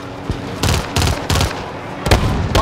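Automatic gunfire in a Call of Duty match: short, loud bursts of rapid shots repeat in a rough rhythm, close and punchy, with no talking over them.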